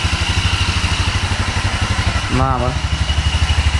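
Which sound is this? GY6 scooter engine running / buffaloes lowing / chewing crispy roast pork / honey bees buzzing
GY6 scooter engine running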